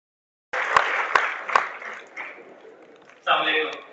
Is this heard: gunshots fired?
no